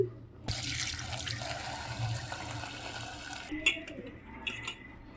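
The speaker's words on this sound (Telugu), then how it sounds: "దీంట్లో కొంచెం సాల్ట్ వేసుకొని చక్కగా వాటర్ పోసుకొని నీట్గా కడిగేసుకుందామండి" Water runs steadily from a tap into a sink, close by, with a few splashes and knocks as mushrooms are rinsed in salted water, then it eases off.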